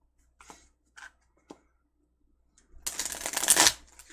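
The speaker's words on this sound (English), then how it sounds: "so I'm going to just shuffle real quick" A few soft taps and flicks of handled tarot cards, then a quick riffling shuffle of the deck, brisk and close.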